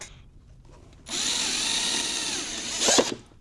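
A power drill whirs up suddenly and runs at a steady high whine, drilling into plastic, grinding slightly louder near the end before winding down.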